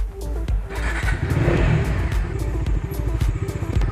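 A 2020 Bajaj Dominar 250 motorcycle pulls away with a loud, close engine note that rises as it accelerates, its exhaust throbbing steadily throughout.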